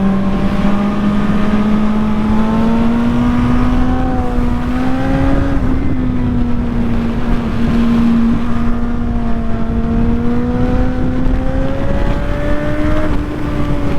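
Suzuki 750 GSR motorcycle engine pulling hard under acceleration, a loud steady inline-four drone whose pitch climbs through the gears with brief shift dips, close and continuous with no talking.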